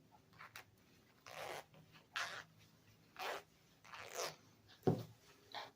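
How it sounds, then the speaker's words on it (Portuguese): A zipper being opened on a handmade sewn fabric bag, heard as several separate short rasping pulls with pauses between them, close and moderately loud, with no talking. "Depois eu vou abrir o zíper para poder soltar esse outro lado."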